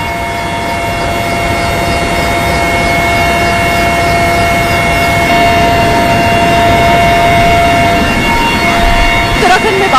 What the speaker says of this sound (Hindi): इस वक्त हम मौजूद है वायुसेना के इस हेलीकॉप्टर में